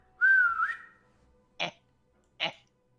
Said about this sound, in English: Did you guys hear that whistle?